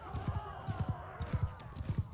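Galloping horse hooves in the Mount & Blade II: Bannerlord video game, a fast, steady rhythm of paired thudding beats close by over a low background rumble.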